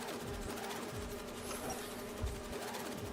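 A bee wolf buzzes in the Spider-Man 2 video game, a steady faint insect drone with a soft hum running throughout, no voices over it.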